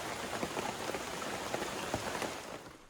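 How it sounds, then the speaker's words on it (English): Steady rain falls in a rainforest, a dense patter of drops hitting leaves and surfaces all around, soft and even throughout with no voices. "the best part about being in the rainforest when it's raining"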